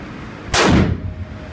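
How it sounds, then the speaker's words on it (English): A single loud rifle shot from a .30-06 fired outdoors at a target, a sharp blast followed by a brief rolling echo, with no talking. "Now I'm gonna come out and I'm gonna shoot my next gun, my new rifle I got for my birthday. It's a 30-06."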